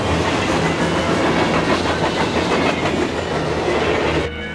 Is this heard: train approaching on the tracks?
yes